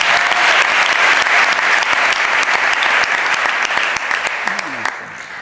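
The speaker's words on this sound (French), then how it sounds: "Acclamons le Seigneur." A church congregation applauds in loud, sustained clapping that fills the room, dense and even for several seconds before thinning toward the end, with voices rising faintly underneath.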